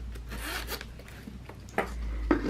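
A zipper being drawn shut on a cash envelope pouch, a few quick rasping strokes with small rustles between, close and fairly quiet.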